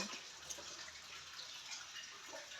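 Faint, steady hiss of water running on the other side of a house, with a few soft drips and splashes, no voices.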